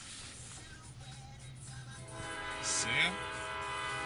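A long, slow freight train with several engines rolls past a crossing at a distance, with a steady rumble and a horn sounding late on, while a person talks quietly over it.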